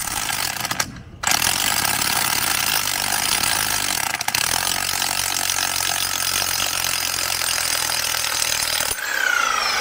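A shed-moving auger spinning in deep ground without biting or lifting soil, giving a steady ratcheting, grinding mechanical whir that runs continuously and close, with a brief dropout near the start and a change near the end.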